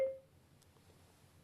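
A single short electronic beep from a FREECOM 2 intercom at the start, then quiet low background hum.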